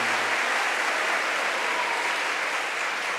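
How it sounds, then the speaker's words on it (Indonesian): Audience applause during a church talk, a dense, steady burst of clapping from a group that stays loud and even throughout. "tepuk tangan untuk dia"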